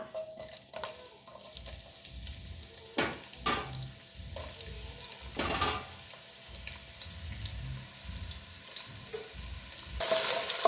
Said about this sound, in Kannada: ಈಗ ಆನಿಯನ್ನು ಫ್ರೈ ಆಗಕ್ಕೆ ಸ್ಟಾರ್ಟ್ ಆಯಿತು.